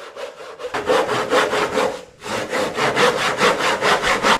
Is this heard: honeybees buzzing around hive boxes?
no